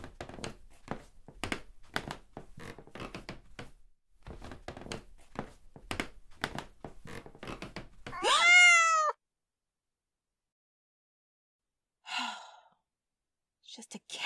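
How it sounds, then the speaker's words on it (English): A cat in a dark house gives one drawn-out, rising meow, close and clear, after a stretch of brisk rhythmic footsteps or tapping, then fainter short thumps follow in near silence. "Of course, there's a cat walking around in here."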